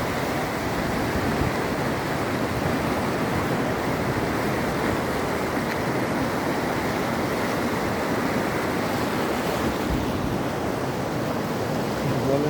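Constant broadband rush of fast-moving floodwater on the Mayurakshi River in West Bengal, loud and unbroken, like a swollen river flowing close by with no voices.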